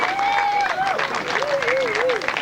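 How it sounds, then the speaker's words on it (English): Crowd applause and cheers at a grasstrack racing prize-giving as a sidecar passenger comes up for a trophy, a steady broad clatter of clapping mixed with babble while a voice speaks over a public address. "give him a cheer, why not?"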